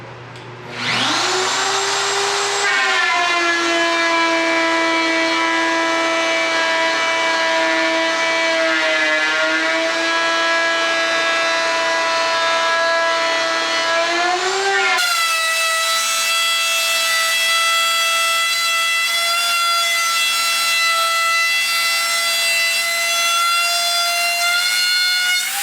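A router mounted in a Bora router plate cuts a dado in wood, making a loud, sustained whining drone that spins up, holds steady with small pitch dips under load, then shifts to a higher, steadier tone partway through.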